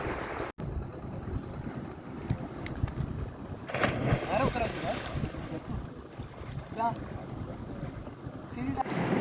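A boat jetty on the sea in Lakshadweep in the morning: steady wind rumbling across the microphone with washing waves beneath, and faint voices at times in the background.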